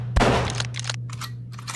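Two quick blasts from a double-barrelled shotgun in an AI-built first-person hunting video game, a loud sharp report followed by a rapid second shot and brief reloading clatter, with a steady electrical hum behind.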